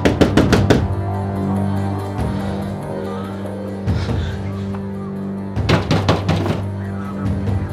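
Police pound on a house door in bursts of rapid, loud, heavy knocks, with a pause between the bursts, over a murmur of background sound.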